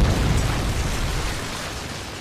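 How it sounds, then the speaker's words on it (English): A Predator missile explodes in Modern Warfare 3 during a Team Deathmatch on Bakaara, a loud, close blast whose rumbling roar slowly fades over a couple of seconds. "Predator missile inbound."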